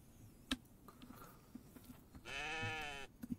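A goat on a farm, heard in a survival show, gives a single drawn-out bleat lasting under a second, moderately distant and rising over quiet outdoor ambience with scattered footsteps and small clicks.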